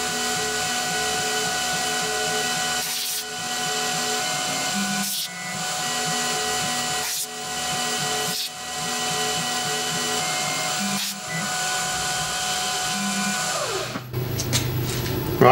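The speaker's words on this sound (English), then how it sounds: "we're going to cut the pockets of the wire and drill a central hole" A 3/16 end mill machines pockets and drills a central hole in a small shop-made aluminium part, giving a loud steady whine interrupted by brief dips every couple of seconds, ending with a shift in tone near the finish.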